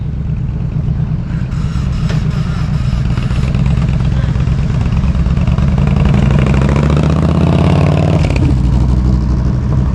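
Loud motorcycle engines idle and rumble nearby at Passo Falzarego in the Dolomites, with one revving up toward the end over a constant heavy engine drone.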